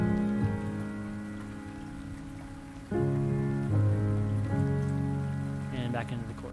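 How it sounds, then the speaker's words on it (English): Rain sample layered into a quiet chorus of a produced song, a steady soft patter of rain sitting beneath sustained piano chords throughout, with no voices. "some rain sounds."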